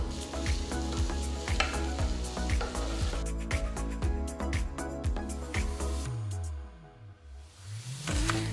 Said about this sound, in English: After adding the olive oil, add half onion thinly sliced.